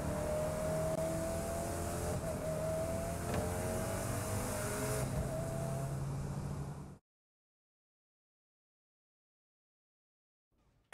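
A car speeding along in the game Saints Row The Third, a steady engine roar with a sustained whine for about seven seconds before everything cuts to silence.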